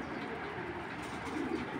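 Racing pigeons of a Koopman bloodline coo softly in a loft, a low murmuring burble that is faint and continuous, with no voices.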